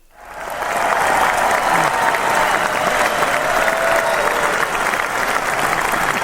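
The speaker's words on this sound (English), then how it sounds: "they get the super applause just because we can" A canned applause sound effect on a sports radio show swells in quickly and holds as a steady, full roar of clapping from a large crowd.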